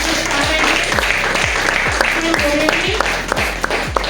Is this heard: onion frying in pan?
no